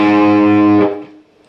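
Distorted electric guitar rings out the D lick from a song, a loud sustained chord held close for under a second, then decaying into fading resonance and near silence.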